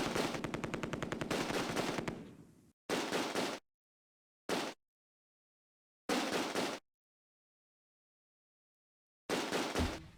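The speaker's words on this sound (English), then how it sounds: "The heavy machine gun opens up again, causing casualties." A heavy machine gun fires in the Close Combat: A Bridge Too Far war game during a Nijmegen river crossing, with a long rapid burst followed by several short, sharp bursts separated by silence.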